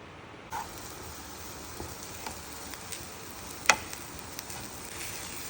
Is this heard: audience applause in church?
no